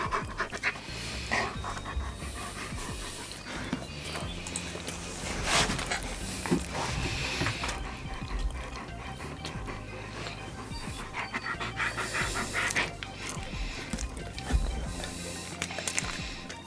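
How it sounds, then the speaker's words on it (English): A dog pants rapidly and steadily all the way through, close by, with a constant rhythmic huffing and occasional faint whimpers underneath. "You wanna see the doggy?"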